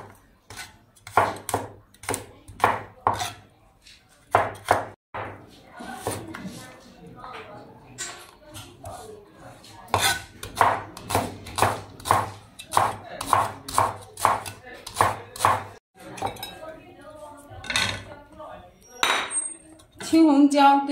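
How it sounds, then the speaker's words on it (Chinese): A knife chops scallion, ginger and garlic on a cutting board for stir-fried pork tongue, in steady rapid runs of crisp close taps broken by short pauses. "像葱姜蒜把它切小，"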